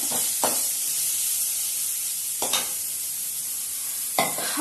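Finely chopped onions sautéing in oil for an ennai kathirikkai kulambu, a continuous loud sizzle broken by three sharp stirring scrapes of a spoon against the pan.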